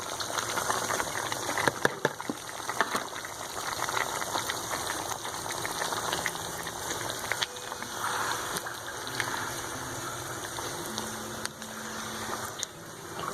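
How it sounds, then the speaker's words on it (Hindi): Chopped onions fry in a karahi with a steady, moderately quiet sizzle and crackle that continues without a break, with no one talking. "अब हम इसको इसमें शामिल करेंगे और अच्छे से फ्राई करेंगे यहाँ तक कि प्याज का पानी अच्छे से खुश्क हो जाए"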